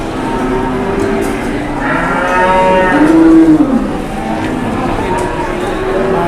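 A giant 1-ton bull at Pasar Pon Ambarawa cattle market gives one long, loud, falling moo in the middle, amid crowd chatter, engine noise and nearby talking.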